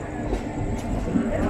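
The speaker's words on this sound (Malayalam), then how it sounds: "ഒരു ഗുഡ്സ് ട്രെയിനാണ്, ഫ്രൈറ്റ് ട്രെയിനാണ്." A freight goods train passes nearby while riding a passenger train approaching Kozhikode station, giving a steady rumbling rail roar with faint clattering across a short stretch.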